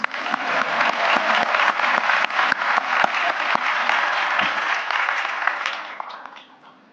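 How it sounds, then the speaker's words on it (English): A studio audience claps steadily for several seconds, a dense even wash of applause that tapers off at the end. "Let's give them a round of applause."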